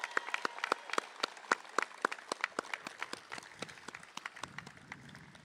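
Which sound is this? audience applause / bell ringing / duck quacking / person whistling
audience applause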